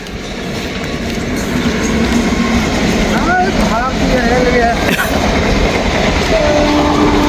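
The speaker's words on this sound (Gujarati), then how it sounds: "ટ્રેન આવી." A train rumbles past loudly and continuously with rattling wheels near the Bhadar River bridge, while a few brief horn-like tones sound partway through.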